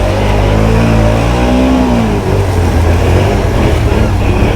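A 2017 Can-Am Outlander 650 XMR quad runs at full throttle, its mid-pitched engine roaring loudly and steadily close by, with the pitch rising and wavering under load for several seconds.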